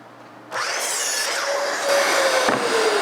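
A saw starts abruptly and cuts a 16-inch piece of wood, a steady close whirring and rasping that grows slightly louder midway and continues to the end without speech.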